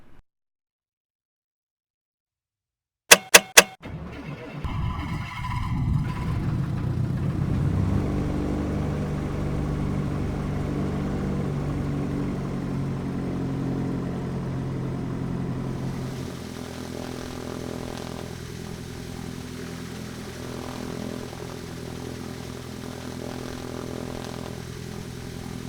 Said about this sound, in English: we'll get this aircraft started